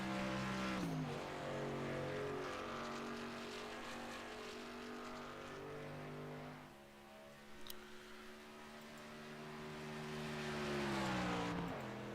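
A race car engine at Talladega drones steadily through a qualifying lap, its pitch sliding with gear changes and a brief lift mid-run before climbing back to a loud, sustained roar, with no talking over it.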